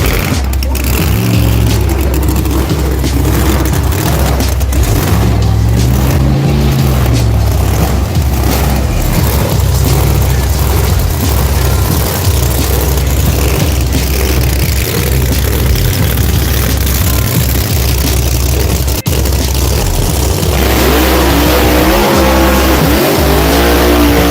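Drag race cars at the start line of a grudge race, their engines revving loud and close in a constant roar with rising and falling revs throughout.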